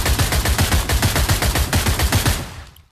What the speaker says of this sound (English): This gun is now automatic.